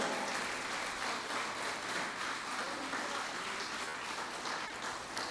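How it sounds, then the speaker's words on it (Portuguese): A church congregation applauds for the Lord during an evening sermon: a dense, sustained wash of clapping from many people that holds steady and fairly loud throughout. "dar uma salva de palmas para o Senhor"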